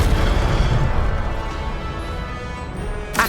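A fire spell blast in Hogwarts Legacy, a heavy booming burst of flame that roars steadily for three seconds, ending with a sharp crackling flare.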